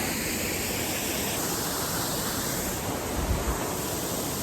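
A waterfall in Ireland on the Wild Atlantic Way roars as a steady, loud wash of rushing water, continuous and even throughout with no talk over it.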